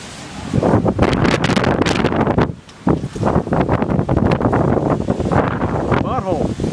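Strong gusty wind during a summer thunderstorm, loud buffeting roar across the microphone with a brief lull midway, while people talk over it.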